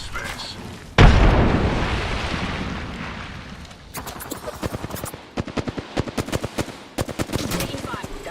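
In a video game firefight, a frag grenade goes off in a loud, sudden blast whose rumble decays over several seconds, followed by bursts of rapid machine-gun fire, close and punchy, with speech mixed in.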